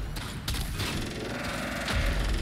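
Rapid gunfire and cannon-like booms from a Tusk Thumper Doma fight in the Warframe video game's Plains of Eidolon, a dense continuous barrage of shots with heavier thumps near the end, with no talk.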